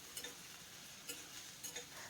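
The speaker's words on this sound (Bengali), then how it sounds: "তো এখানে দেখুন আদাটা ভাজা হয়ে গিয়েছে" Ground ginger frying in a pan, a faint steady sizzle broken by three or four soft clicks of a spoon stirring against the metal.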